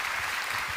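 Audience applause at a Korean church prayer gathering, a short, quiet burst of many hands clapping at a distance, with no voice over it.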